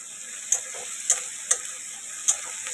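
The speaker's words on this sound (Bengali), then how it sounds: "এই যে পেঁয়াজ আর টমেটোটা আমি ভেজে নিব লাল লাল করে" Onions and tomatoes frying in a pan until reddened, a soft steady hiss broken by four or five sharp spoon taps against the metal.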